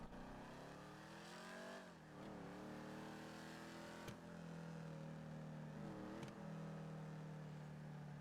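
Car engine driving in a GTA roleplay game, a steady droning engine tone that rises and dips with gear changes and revving, with no talk.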